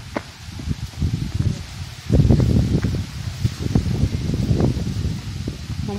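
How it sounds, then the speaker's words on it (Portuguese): Strong wind rustles the broad leaves of banana plants on a farm near a peach palm plot, a loud, continuous papery thrashing that swells in gusts, with no talking. "O vento tá forte."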